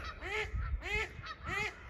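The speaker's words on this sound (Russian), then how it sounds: "Вон, посмотрите, как кричит эта утка." A domestic duck calls with three loud, close quacks at a steady rhythm, each a raspy harmonic burst separated by short pauses, with no talking.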